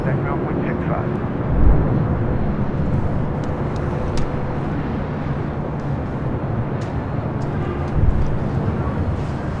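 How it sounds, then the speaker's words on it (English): A Virgin Atlantic Airbus A350-1000 arriving at LAX, heard as a steady, broad jet roar holding loud and level throughout, with faint traffic-like rumble beneath. "we do have Virgin Atlantic Flight 7, the A350-1000 up next for arrival"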